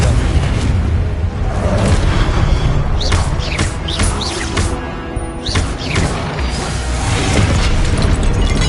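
Confringo blasting spell going off in Hogwarts Legacy: a loud, crackling burst of booming impacts and sharp chirping whooshes over a dense, sustained rumble of game noise, with no talking.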